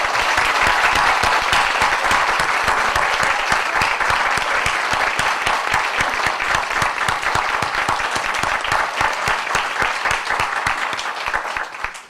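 Loud, sustained applause from a large audience at an annual general meeting, steady dense clapping that carries on without a break and tapers off only at the very end.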